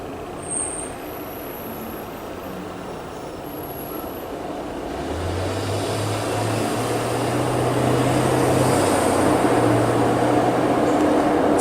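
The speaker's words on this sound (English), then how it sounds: "So I live right by a factory, and I also live next to the train." Steady low rumble of a nearby factory and passing train, a broad industrial hum that swells louder over time, with a deep droning tone rising in the second half and no voices.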